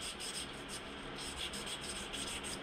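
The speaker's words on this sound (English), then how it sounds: "we're going to sand this with the fine sandpaper" Fine sandpaper rubs back and forth on a small wooden model ship part in quick, even strokes, a soft close rasping scratch that repeats steadily, with no talk.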